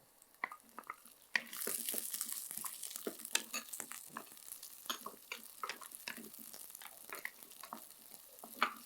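Vegetables sauté in a pan with a soft sizzle that swells after a moment, punctuated by frequent clinks and scrapes of a stirring spoon, fairly quiet and close.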